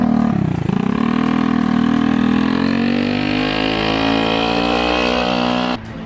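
A motorcycle pulls away with a loud, close engine whose pitch climbs steadily as it accelerates, then drops off abruptly near the end.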